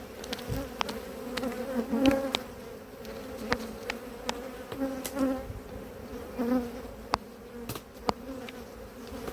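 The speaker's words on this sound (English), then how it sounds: "angry bees collect lots of honey" Angry honeybees swarming around a hive with boxes of honey, a continuous buzzing drone with individual bees zipping close past, punctuated by occasional sharp clicks and knocks.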